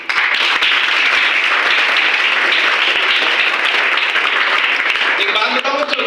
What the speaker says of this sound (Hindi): आपके मैनेजमेंट के लिए एक जबरदस्त अप्लॉज होना चाहिए